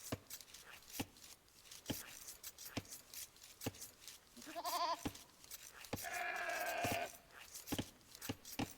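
Sheep bleat in an Age of Empires match on the Arabia map, two bursts of wavering bleats standing out over a steady run of sharp clicks and taps from the game.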